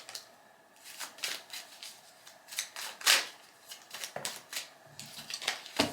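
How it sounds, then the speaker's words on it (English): Tarot cards being shuffled by hand: a series of soft, crisp riffling and slapping bursts at irregular intervals, fairly close and quiet, with no talking. "as you see me shuffling, and you're like, girl, you're dropping cards"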